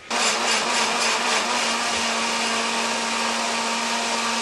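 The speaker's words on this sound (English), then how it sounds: "I still use the immersion blender." An immersion blender whirs steadily as it purees food, a loud, continuous motor drone with a constant hum running unbroken from start to finish, no talking over it.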